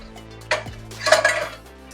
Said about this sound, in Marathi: याच्यावर मी झाकण ठेवणार आहे